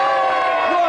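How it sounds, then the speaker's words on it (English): A television game-show studio audience in 1993 cheering and whooping, a loud dense crowd roar held steady throughout the brief moment. "give him a big cheer"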